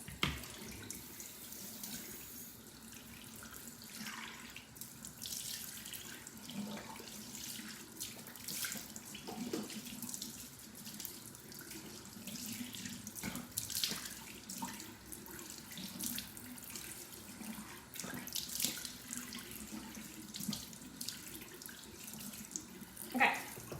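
A bathroom tap runs steadily into a sink while someone rinses their face, with water splashing and gurgling in uneven bursts close by.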